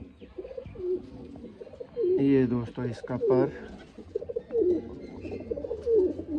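Sialkoti pigeons, including a two-year-old young male, coo in a close burst of throaty, rolling calls, with softer coos around it, while someone talks over them.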